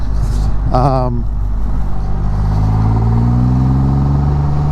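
A Triumph Rocket 3R motorcycle's engine revs up with a throaty exhaust, its pitch climbing steadily in the second half after a brief voice near the start.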